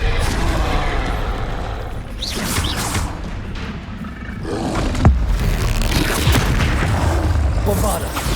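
A Bombarda explosion spell goes off in the Hogwarts Legacy video game, a loud booming blast amid continuous roaring combat noise and other spell impacts, with a voice shouting over the din.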